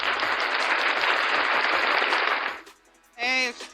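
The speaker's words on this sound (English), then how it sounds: "set that applause." Studio applause sound effect played on a podcast, a dense burst of clapping lasting about two and a half seconds before cutting off, followed by a brief voice.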